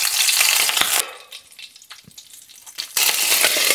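Tempering spices hit hot coconut oil for an ash gourd buttermilk stew, a loud, dense sizzle that drops back briefly midway and then flares up strongly again.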